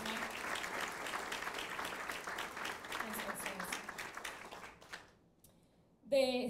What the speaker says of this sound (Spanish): me gustaría que le dieran un fuerte aplauso